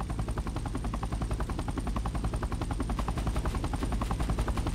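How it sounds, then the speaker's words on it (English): A helicopter in the Roblox video game, its rotor chopping in a fast, steady, loud rhythm throughout with no talk over it. "Yo, I have a helicopter."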